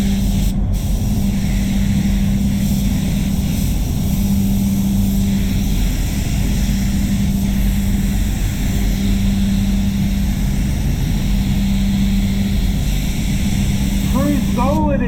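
A spray gun laying clear coat onto a Ford Territory car body, a loud continuous hiss of air and atomised paint close by, with a low droning hum underneath and a brief voice at the very end.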